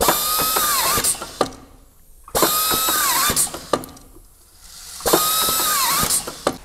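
A machine drives galvanized steel reinforcement into a PVC window frame in three repeating cycles, each a steady loud mechanical whir with clicks and clatter, separated by brief quieter pauses.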